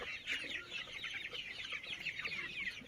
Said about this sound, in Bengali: দেখেন এর ভিতরে কয়টা মোরগ আছে, সবই কিন্তু এগুলো মোরগ